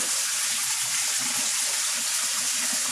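Steady, loud broadband rush of water pouring into a DIY koi pond skimmer, a continuous close gush with no pauses and no talking.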